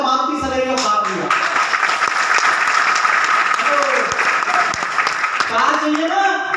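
An audience at a talk on a business and a new Maruti Celerio car bursts into loud, sustained clapping, dense and steady for several seconds, with voices briefly over it at the start and end.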